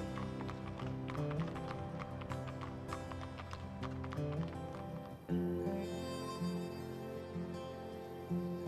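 Mounted police horses in a city setting walk with a steady clip-clop of hooves, moderately close and regular, over a background of music.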